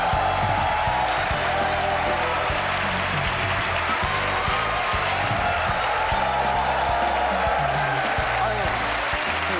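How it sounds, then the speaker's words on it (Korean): Studio audience applauding steadily for a doctor being welcomed onto a Korean comedy stage show, a dense continuous clatter of clapping throughout with voices and some music mixed in beneath. "박수 많이 쳐라. 강재현 선생님 박수."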